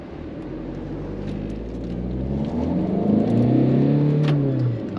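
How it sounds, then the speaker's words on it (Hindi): A Tata Nexon diesel facelift with an automatic gearbox pulls away from a standstill in drive. The close engine note climbs steadily in pitch and loudness as it accelerates, with no talking. "इसको डालते हैं ड्राइव मोड पे और करते हैं गाड़ी को लॉन्च"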